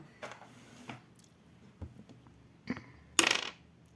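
Dice clatter across a hard surface in a few small knocks, ending in a brief bright rattling burst, close and fairly quiet.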